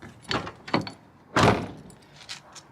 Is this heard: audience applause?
no